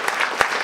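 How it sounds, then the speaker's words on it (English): An audience at a live event applauds, a short burst of dense clapping heard alone. "Big round of applause for Debbie."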